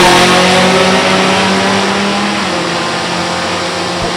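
A D-Stock automatic Pontiac Firebird drag car with a 400 cubic inch engine roars loudly and steadily at close range at a drag strip, its engine note holding strong throughout with no talk.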